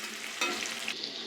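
Curry leaves hit hot oil in a kadhai with a green chilli, ginger and garlic paste, giving a steady close-up sizzle with a brief louder burst, no voices.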